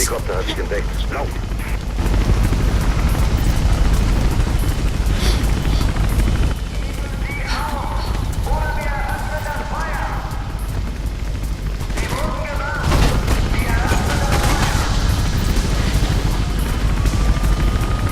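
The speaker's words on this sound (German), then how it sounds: "Der Helikopter hat dich entdeckt. Lauf!" A helicopter in the video game Mirror's Edge gives a loud, steady rotor roar that runs through the whole stretch, with brief bursts and clanks mixed in and a voice talking over it.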